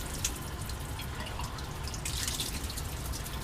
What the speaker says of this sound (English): you can rinse this guy out.